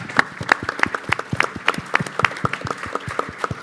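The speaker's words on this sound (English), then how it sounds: "Give these guys a round of applause, because these are the heroes." A small audience at a road salt panel discussion claps for the plow drivers, giving sparse, separate hand claps that are close by and irregular, holding steady for a few seconds.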